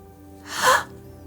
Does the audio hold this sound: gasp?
yes